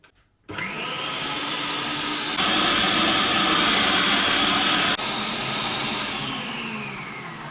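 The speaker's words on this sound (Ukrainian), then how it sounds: "Все, вмикаю м'ясорубку." An electric meat grinder runs loud and steady, mincing alternating onion, tomato, pepper and garlic for canned beans in tomato sauce, a continuous motor whine starting after a brief silence and swelling slightly midway, with no talking.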